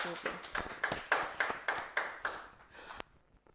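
Rhythmic clapping from a small group on a Cameroonian reality show, about ten steady claps in sequence, fairly faint and fading out at the end.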